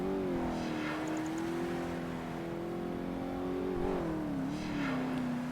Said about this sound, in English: Oh, the F50's overtaking the F40 now.